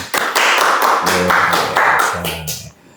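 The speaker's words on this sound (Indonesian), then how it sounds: "Tepuk tangan dong buat Bu Maya" Studio audience clapping for a guest teacher on a school talk show: bright, close bursts of hands clapping, with voices calling out briefly between the claps before it fades at the end.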